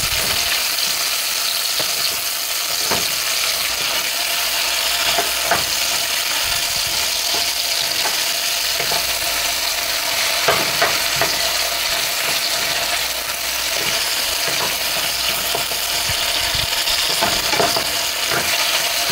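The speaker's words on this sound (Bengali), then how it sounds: "এটাকে একটু হালকা লাল লাল করে ভেজে নেব।" Chopped onions frying in oil with spices for a mutton rezala, a continuous loud sizzle with occasional crackles and stirring clicks, no talk over it.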